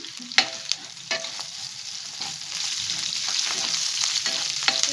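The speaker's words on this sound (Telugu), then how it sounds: "ఆనియన్స్ తొందరగా ఫ్రై అవ్వడం కోసం" Chopped onions fry with salt in a pan for bendakaya pulusu, giving a steady, close hiss of sizzling oil with a few sharp stirring clicks early on.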